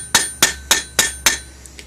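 A hammer strikes an aluminium rivet during cold forging, five sharp evenly spaced metallic blows, then two faint lighter taps, close and loud with no talking.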